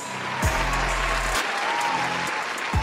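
Applause and cheering from a crowd at a rap battle tournament, loud and steady, with a low bass beat starting and stopping underneath.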